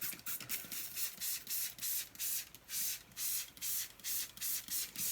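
Quick hissing bursts from a cleaning spray bottle onto a stove top repeat in a steady rhythm, about a dozen short sprays close up with quiet gaps between them.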